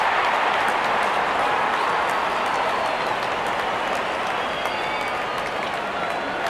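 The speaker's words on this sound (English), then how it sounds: "cheering in anticipation." A cricket crowd fills a stadium with a dense, steady roar of cheering and clapping as a batsman waits to face his first ball, the noise holding loud and unbroken throughout.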